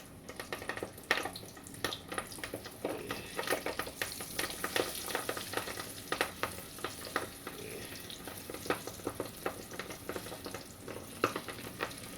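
Lobster and shrimp corn dogs dropped into hot oil, frying with a steady close crackle and dense bubbling sizzle, crisp pops scattered throughout, no voices.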